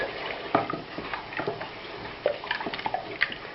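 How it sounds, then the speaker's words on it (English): Milk poured into a blonde roux in a pan for bechamel, a wet splashing and bubbling with irregular drips and stirring sounds, close and moderately quiet. "Now I'm going to add milk."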